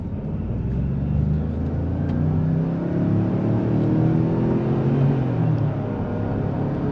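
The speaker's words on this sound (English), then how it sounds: "I'm gonna kind of just do a little bit of a small acceleration run right here" A 2024 Ford Expedition Limited Stealth Edition 4x2 on wide 285mm tires pulls through a steady acceleration run, its engine droning and revving in a continuous, fairly loud rumble with rising tone, heard from inside the cabin.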